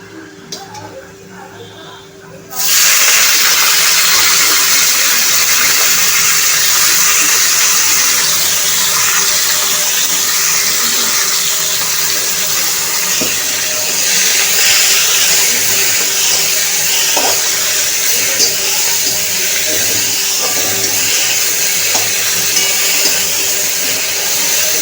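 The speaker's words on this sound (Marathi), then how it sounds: "सगळ्यात आधी आपण ही शिजवून घेणार आहोत मेथी।" Chopped fenugreek leaves (methi), washed and cut, cook in a pan with a loud, steady hiss and sizzle that starts abruptly after a quiet opening and carries on evenly throughout.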